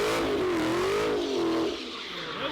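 A 1200-horsepower Hellcat burnout, the engine held at a loud, wavering high rev that rises and dips without pause, roaring close by and fading a little near the end.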